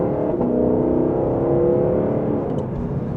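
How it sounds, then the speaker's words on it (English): A 2025 Lexus LC500 coupe accelerates from inside the cabin, its engine note rising smoothly and fairly loud before a faint exhaust pop near the end, with no talk. "You can hear a slight pop in that exhaust."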